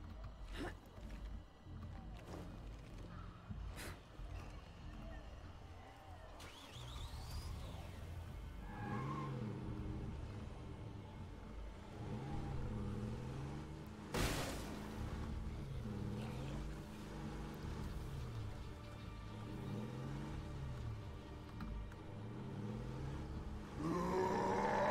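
A car driving up a road in the video game State of Decay 2 sends out a rising and falling engine drone that surges repeatedly, with scattered clicks and a sharp burst midway.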